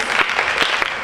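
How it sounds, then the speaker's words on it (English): Applause from a school theatre audience for the playwrights at a staged reading event, a dense steady wash of many hands clapping with no talk over it. "One more round of applause for the playwrights"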